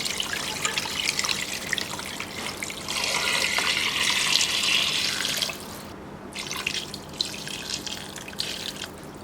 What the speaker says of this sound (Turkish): Suyunu ekliyorum.